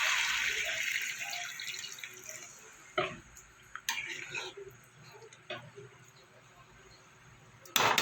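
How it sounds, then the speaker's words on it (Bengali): Water is poured into a pan of ridge gourd, potato and rohu fish curry, making a hiss and splash with a few utensil knocks while a voice talks quietly over it. "এবার আমি জল দিয়ে দেবো।"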